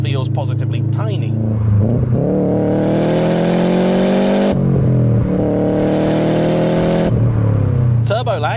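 A turbocharged Subaru Impreza 22B engine revs up hard through the gears, pitch climbing with short breaks between shifts, loud and close, with a voice talking over it.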